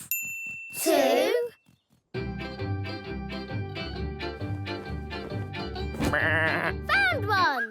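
Sheep in a cartoon farm scene give a loud wavering bleat, then a bouncy tinkling musical passage plays, followed by more close bleats near the end.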